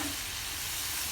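Hot oil with pepper sizzles and crackles steadily in a pan, close up and fairly quiet, with a constant bright hiss.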